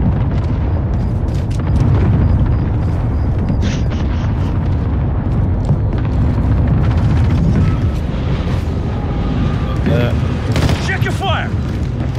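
Airstrike explosions in the Modern Warfare video game, a dense and loud barrage of booms and rumbling blasts that keeps going the whole time, with scattered gunfire and sharp cracks mixed in.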